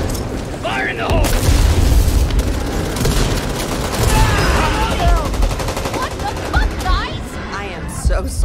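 Grenade explosion and heavy gunfire in the Back 4 Blood video game, with a booming blast and sustained bursts of shooting filling the mix while players talk over the chaos.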